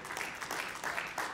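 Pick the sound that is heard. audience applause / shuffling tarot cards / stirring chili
audience applause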